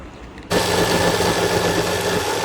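A mixer grinder jar blends hummus made with chickpeas, three ice cubes and lemon juice, starting abruptly after a quiet half second with a loud, steady motor whir and grinding roar.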